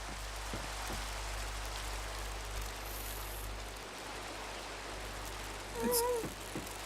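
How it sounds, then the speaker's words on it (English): Steady rain hiss in a video game world, a constant even wash of drops with a low background hum and a few faint tonal blips near the end. "It's like always raining in this world for some reason."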